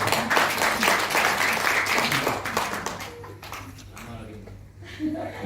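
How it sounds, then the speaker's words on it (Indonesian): An event audience at NMT Bukittinggi applauds the operator: a dense burst of clapping that fades after a few seconds, with talk running underneath. "kasih tepuk tangan untuk operator kita"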